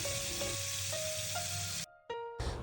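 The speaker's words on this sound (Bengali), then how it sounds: "তেলটা গরম হলে পর্যায়ক্রমে আমি মাছগুলো ভেজে নিচ্ছি" Boal fish pieces fry in hot oil in a wok, making a dense, close hiss that holds steady for about two seconds, then drops out and briefly returns.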